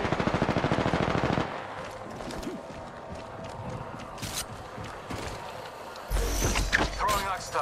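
Rapid automatic weapon fire bursts in Apex Legends, a fast rhythmic rattle up front, then scattered shots, clicks and movement noises with a player talking over the action.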